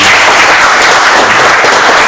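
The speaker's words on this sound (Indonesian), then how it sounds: "sekali lagi tepuk tangan buat ide dari ini, Parenting and Drug Prevention." Loud, dense applause from an audience at a parenting and drug prevention event, a steady wash of many hands clapping together, close and continuous throughout with no talk.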